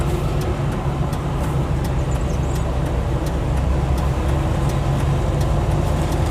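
A Land Rover FC101 V8 crawls along in third gear, its engine a loud, steady rumble inside the cab with faint rattles and clicks over it.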